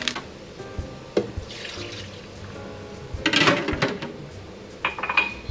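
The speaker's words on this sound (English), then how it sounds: "There I added maybe 6 ounces of water" Water splashes in bursts into a bucket of High Mountain Jalapeño summer sausage seasoning mix, with light clinks and clatter of containers between pours, close and fairly loud.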